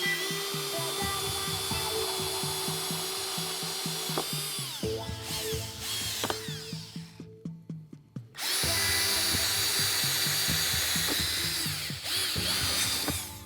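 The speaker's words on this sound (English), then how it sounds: "I'm going to drill all the way through so I have 2 starting points to then connect the 2 holes" A power drill bores through a CBI T3 hidden winch mount push bar, whining loudly and continuously, stuttering briefly and then dropping out for a moment before spinning back up at full strength.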